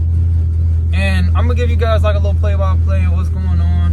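A car engine idles with open exhaust dumps, a loud, deep, steady drone running throughout while someone talks over it.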